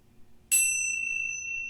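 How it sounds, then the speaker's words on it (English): A single bell chimes at the start of a yoga class, a bright struck ring with a long clear sustain that fades slowly over a quiet room. "We will start by chiming the bells."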